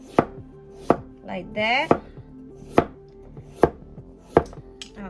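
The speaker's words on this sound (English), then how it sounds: "what I'm going to do is cut the vegetable really thin" A knife chops a hot pepper into very thin slices on a board, giving six sharp, evenly spaced cuts at close range, with a brief remark spoken partway through.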